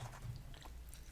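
Someone chewing a McDonald's Big Mac during a mukbang meal with fries: close, soft wet bites and mastication, steady over a brief moment.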